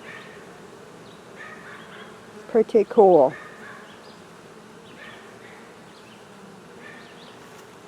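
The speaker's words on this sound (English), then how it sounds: "there's a lot of bees down in there" A swarm of honey bees being transferred into a top bar hive buzzes in a low, constant hum, with a brief louder burst of close buzzing midway and a short spoken remark.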